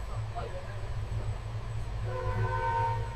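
Passenger train running from Sealdah toward Puri, a close steady rumble with wheel clatter and a drawn-out horn tone rising toward the end.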